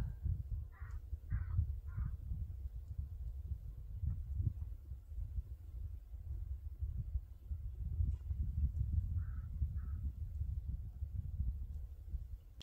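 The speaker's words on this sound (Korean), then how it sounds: "그런데 왜 까마귀가 오냐?" Crows cawing on a mountain summit trail, a couple of short bursts of repeated caws early and another pair later, moderately distant over steady wind-like rumble.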